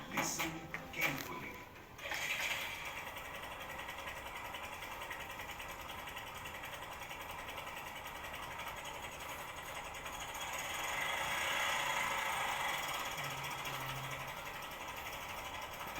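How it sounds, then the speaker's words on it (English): A running motorcycle engine with cam chain (timing chain) noise gives off a steady mechanical rattle and ticking, close up and continuous, with a brief louder burst near the start. "This is called cam chain or timing chain noise."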